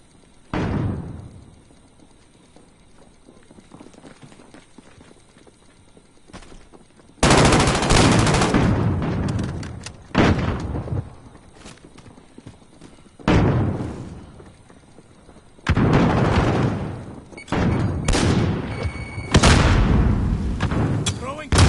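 Gunfire in a PS4 shooter video game comes in several loud bursts of rapid automatic shots and blasts, separated by quieter gaps with faint radio-style voices.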